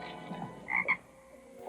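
A frog croaks in a 1956 Annie Oakley western, giving two short, bright, close croaks in quick succession against a quiet background.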